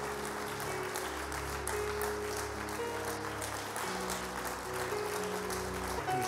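A church congregation applauds and cheers in praise of the Lord, a dense, steady roar of clapping that lasts throughout over sustained music tones in the background.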